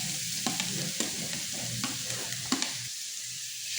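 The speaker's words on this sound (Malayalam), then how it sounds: "നമ്മുടെ നെയ്യ് ഉരുക്കി വന്നിട്ട് അതിലേക്ക് നമ്മൾ ക്യാരറ്റ് ചീക്കി വെച്ചത് ഇട്ട് കൊടുക്കാം." Grated carrot frying in melted ghee for carrot payasam, a soft steady sizzle with several light stirring taps and scrapes of a spoon against the pan, close and quiet.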